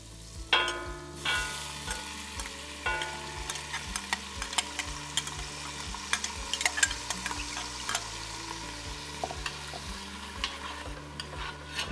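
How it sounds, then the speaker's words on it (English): Mirepoix fries in olive oil and butter in a pot for New Orleans black-eyed peas with ham shanks, a soft sizzle broken by irregular stirring clicks and scrapes, heard close beneath steady background music. "I am going to turn the fire up, and I'm going to put in my Mirepoix"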